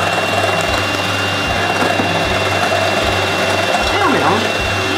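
An electric mixer whirs steadily, beating mascarpone with muscovado sugar, a loud continuous motor drone with a slightly pulsing low hum and no pauses.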